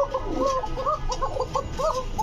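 A large chicken at a pigeon market gives a run of short clucking calls, close and fairly clear over a low murmur of market background.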